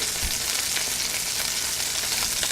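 Chicken supremes searing in a hot pan for a pan-sauce dish, a loud steady sizzle and crackle of frying oil close to the microphone, with one soft thump near the start and no speech.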